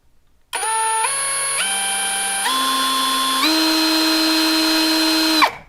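A LYUOWO LW CZ20 impact drill-driver runs with a loud, close motor whine that rises in several clear pitch steps over about five seconds, then stops abruptly. No one speaks over it.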